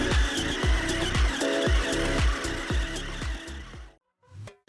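ARRMA Gorgon 2WD RC monster truck with a brushless-ready transmission, its motor revving in rapid repeated bursts and whines, loud and close, then cutting out near the end.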